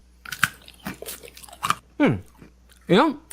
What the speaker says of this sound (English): it's got a good crunch factor. I can hear it.